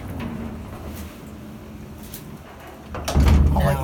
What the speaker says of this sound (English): Now let's close the outer door.